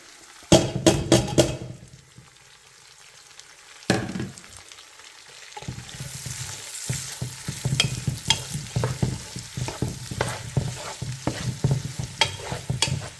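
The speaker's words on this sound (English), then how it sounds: "Add these onions. Saute these onions up." Onions sautéing with bacon in a pot for corn bacon chowder: a few loud knocks and clatters first, then a steady close sizzle with repeated stirring scrapes that runs to the end, with no talking.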